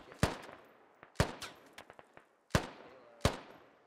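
Gunfire in the video game Operation: Sawtooth, with four sharp shots spaced irregularly and a few softer distant pops between them, all fairly close and with no speech.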